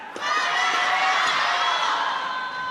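Spectators cheer at a men's singles round-of-16 badminton match at US Smash 2026, a loud, sustained roar of crowd voices with whoops that holds steady for a few seconds.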